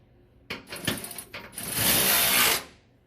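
A socket ratchet tightening bolts on an inboard air-oil separator tank mount during a VMAC VR150 install, with a quick clicking burst followed by a longer, steady rapid ratcheting run, close and loud.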